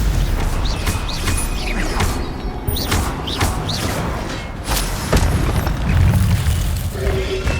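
A Stupefy spell effect in Hogwarts Legacy combat, buried in a dense, loud, unbroken mix of crackling, whooshing and thudding magical effects with repeated sharp hits and booms throughout.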